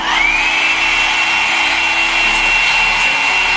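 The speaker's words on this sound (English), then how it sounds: "then I'm gonna blow dry it for just a little bit more" A hair dryer blows steadily on a synthetic ombre wig, a loud, close, constant whirring roar with a high airy whine that holds without a break.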